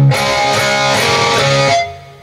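Electric guitar ringing out a blues-rock riff without palm muting, a single loud sustained strummed phrase that fades out at the end, no talk.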